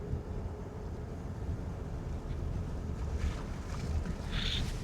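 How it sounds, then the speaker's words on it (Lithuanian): Strong wind buffets an open microphone at seaside dunes, a constant low roaring rumble with gusty swells, steady and close, no talking. "nors vėjas tai pučia toksai"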